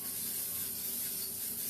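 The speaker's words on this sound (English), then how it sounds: "spray in my pan" Cooking spray hisses from a can into a baking pan, a short, steady, close airy spray lasting under two seconds with no talking.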